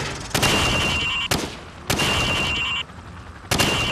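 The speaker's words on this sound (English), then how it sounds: "Now, shoot at the targets while firing from the hip." Rifle fire from the hip at targets in Call of Duty 4, heard as three loud, close bursts of rapid automatic shots separated by short pauses.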